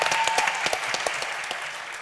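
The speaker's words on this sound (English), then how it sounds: "Please give her a round of applause." Audience applause at a South African small business event, a steady patter of many hands clapping fairly close, filling the short stretch without talk.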